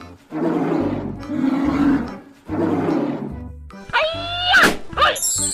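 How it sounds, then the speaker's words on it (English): A cartoonish polar bear sound effect from a children's slide game roars loudly in three long rumbling bursts, followed by squeaky, sliding game tones. "Polar bear."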